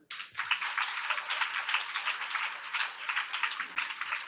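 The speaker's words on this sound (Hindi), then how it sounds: "एक बार ताली बजाओ।" A church congregation applauding together during a Sunday meeting, steady rapid clapping from many hands for about four seconds, fairly close and even, with no talk over it.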